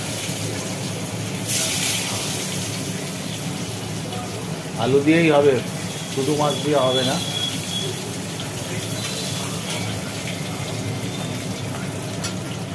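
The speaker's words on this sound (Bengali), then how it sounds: "এইবার ওই তেলের মধ্যে পড়ে গেল কেটে রাখা আলু।" Cut potatoes dropped into hot oil after frying fish, giving a steady broad sizzle throughout, close and moderately loud, with someone briefly talking over it midway.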